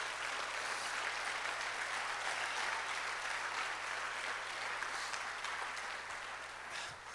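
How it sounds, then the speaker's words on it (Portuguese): Applause from a church congregation during a sermon, offered to the Lord Jesus; a broad, continuous wash of clapping holds steady for several seconds before easing slightly at the end. "dê mais um aplauso ao Senhor Jesus"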